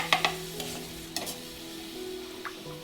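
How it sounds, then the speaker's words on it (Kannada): A spoon stirs a gram flour and water mixture in a pan, giving a few sharp scraping knocks at the start and again around the middle, followed by a quiet, faint sizzle, with no voices. "ಇದನ್ನು ಕೂಡ ನೀಟಾಗಿ ಮಿಕ್ಸ್ ಮಾಡ್ಕೊಳ್ಳೋಣ."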